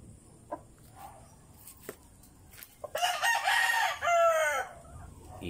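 A gamefowl rooster on a chicken farm crows loudly in a long harmonic call, with a few scattered clucks and small knocks in the quiet beforehand.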